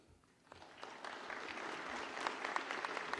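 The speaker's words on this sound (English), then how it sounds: "A round of applause for President Patterson." Applause from the audience at a university commissioning ceremony for President Patterson, fairly quiet and distant, rising from sparse claps into a steadier round of clapping.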